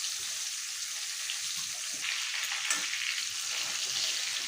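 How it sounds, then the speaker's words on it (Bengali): Potatoes frying in hot oil, seasoned with turmeric and salt, for a potato and tengra fish curry: a steady, dense sizzle that crackles evenly throughout, close and fairly loud, with no voices. "এখন আমি এই তেলে আলুগুলো ভেজে নেব"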